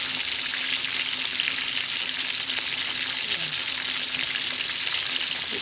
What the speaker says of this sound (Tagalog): Tahimik lang ang pagka-prito sa kanya.